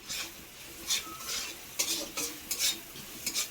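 Leafy greens fry in a pan with turmeric and salt, a soft steady sizzle broken by repeated scraping strokes of a spoon stirring against the metal, close and fairly quiet.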